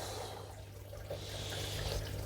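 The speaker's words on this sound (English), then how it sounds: "Water is really important to keep all the dust down when we're carving and working the stone." Running water wets pounamu stone during carving to keep dust down, a soft steady hiss and trickle with faint splashes, fairly quiet and continuous under a low workshop hum.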